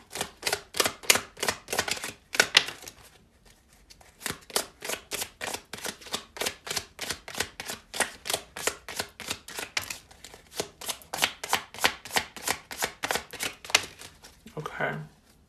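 Tarot cards are shuffled in a steady, rapid riffling rhythm for most of the stretch, with a brief pause partway through and a short voice near the end.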